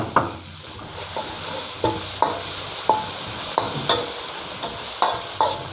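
Garlic and chilies, bird's eye and jinda, stir-fried in a hot pan: a steady oil sizzle broken by repeated sharp scrapes and clinks of a spatula against the pan, roughly every half second to second, close and fairly loud with no talking.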